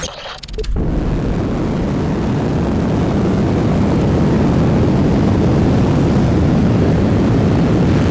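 An aerospace plane in Kerbal Space Program 2 roars with a loud, steady engine rumble that starts abruptly after a brief quieter moment and holds constant for several seconds, with no talking.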